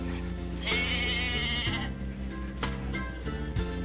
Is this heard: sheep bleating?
yes